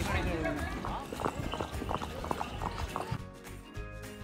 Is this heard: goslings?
no